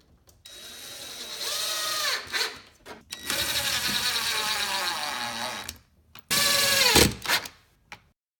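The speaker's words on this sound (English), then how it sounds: "Just go ahead and insert your H6 screw" Power driver whirs in bursts as an H6 screw is driven into a pre-drilled hole on the side of a game table's playing field during assembly, with several short runs and pauses, close and fairly loud.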